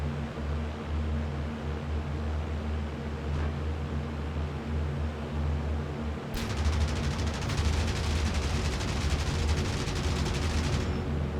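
A P-38 Lightning in a combat flight game fires its guns in a long, dense burst over a steady engine drone, the rattle starting abruptly partway through and continuing loud to the end.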